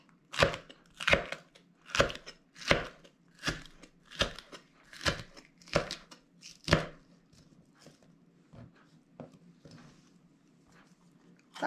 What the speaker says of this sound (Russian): Острый перец тоже небольшими треугольниками.